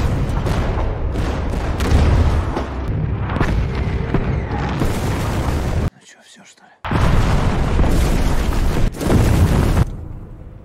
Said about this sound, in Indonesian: Mereka segera menyiapkan beberapa artileri saat pagi buta dan penyerangan